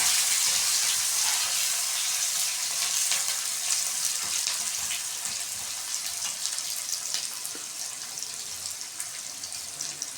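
Chopped onions sautéing with cashews in a pan, a dense bright sizzle that starts loud and eases slightly over time, with no voices.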